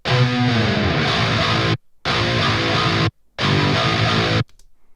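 A distorted synth guitar plays three short buzzy phrases separated by abrupt silences, loud and gritty with sustained chords.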